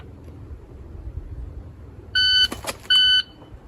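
Two loud, sharp electronic beeps from a shot timer, each about a third of a second long, sound in quick succession over quiet outdoor background noise during live-fire draw training.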